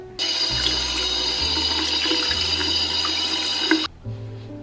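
Water runs steadily from a bathroom sink tap while a green face mask is rinsed off, a close, continuous splashing rush lasting several seconds before it cuts off.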